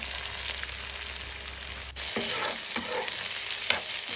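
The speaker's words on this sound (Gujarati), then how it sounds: "પછી કાંદો નાખીને થોડીક વાર એને ચડવા દેવાનો।" Chopped onion sizzles in hot oil in a kadai after mustard and cumin seeds, a steady close frying hiss with a few stirring scrapes and clicks.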